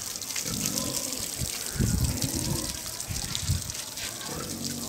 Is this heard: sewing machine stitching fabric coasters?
no